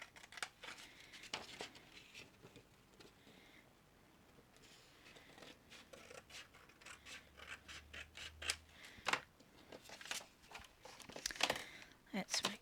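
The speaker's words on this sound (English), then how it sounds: "So I'm going to trim off a little bit more than I think I need." Scissors trimming paper for an envelope-style ephemera wallet: repeated crisp snips and crinkles come in irregular bursts close by, with someone talking quietly in between.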